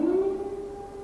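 Haas TL-4 CNC lathe from 2008 with its spindle turning at 100 RPM, a steady close-up tonal whine with a slight pitch rise at the start, alone without talk.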